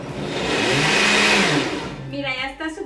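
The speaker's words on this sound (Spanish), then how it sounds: "Y vamos ahorita a licuar." A blender whirs loudly as it blends apple and spinach pancake batter, a rising motor whine that holds for over a second and then cuts off, after which a voice begins speaking.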